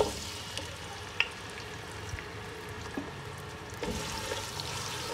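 Onions frying in seven to eight tablespoons of hot oil in a pan for chana pulao, giving a faint, steady sizzle with an occasional light click.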